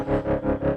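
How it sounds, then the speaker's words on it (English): Electric guitar run through distortion and a Behringer TM300 tremolo pedal, a loud sustained chord chopped into a steady pulsing rhythm of about four swells, with no voice. "you can hear after the distortion, and plus adding a little more depth to it, I can really get it to chop up"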